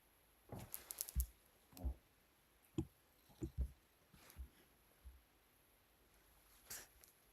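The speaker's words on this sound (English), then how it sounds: "I'm just typing on your phone number" A person tapping out a phone number on a phone during an office conversation, with a dozen or so soft, close, irregular taps and clicks spaced over several seconds in a quiet room.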